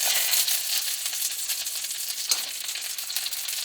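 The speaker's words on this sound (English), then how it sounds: "you fry everything on medium heat" Chicken katsu fries in a pan over medium heat, giving a steady, dense sizzle and crackle that stays at an even level throughout with no talking.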